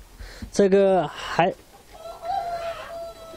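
Chickens on a farm of about 2,000 birds cluck and crow up close, a loud rooster call followed by further drawn-out clucking and crowing.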